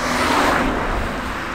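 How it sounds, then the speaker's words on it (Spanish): A single car passes along a lakeside road, a steady broadband whoosh that swells slightly and then holds, fairly close and with no talk. "pasan de vez en cuando algunos coches como el de ahora"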